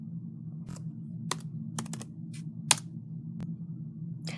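Someone types a password on a Chromebook keyboard, with sparse, crisp key clicks spread irregularly over a steady low hum, close and fairly quiet.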